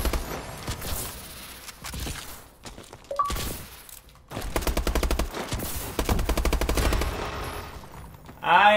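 Rapid bursts of automatic gunfire in Call of Duty Advanced Warfare, crackling in repeated close volleys with short pauses between them, ending in a brief sharp in-game effect.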